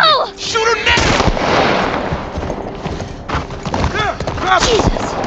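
Gunshots in The Last of Us Remastered at the Lakeside Resort, sharp cracks scattered through the clip alongside shouting voices and other game sounds, loud and fairly close.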